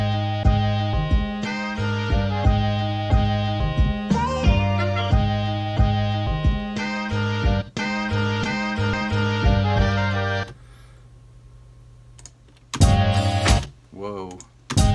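A pitched-up sample loop in FL Studio processed with a Gross Beat effect plays as dense, layered music with rhythmic chops, dropping out briefly before stuttering bursts return near the end.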